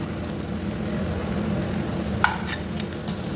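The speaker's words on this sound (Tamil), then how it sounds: "இதை மூணையும் இப்போ ஆட் பண்ணிவிட்டு நல்லா வதக்கி விடலாம்." Garlic, curry leaves and onion sautéing in oil for a dried fish curry, a steady soft sizzle with faint stirring scrapes and a single clink of a spoon against the pan.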